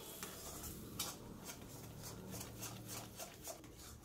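Pointed gourd being stirred with lentil paste in a pan over medium heat, giving soft, steady scraping and light clinks of a spatula against the pan, faint and continuous with no talk.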